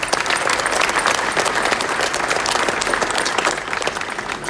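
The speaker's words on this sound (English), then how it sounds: "So a round of applause for Steve Crawley." An audience applauds at an evening 4K television launch event in Australia, steady dense clapping that fills the whole stretch at even loudness, with no voices over it.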